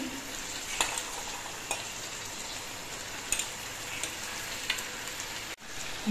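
Fried bhola fish being stirred into boiled potatoes and vegetables for a chorchori, a soft steady sizzle with a few light scraping clicks of the spoon, no talking.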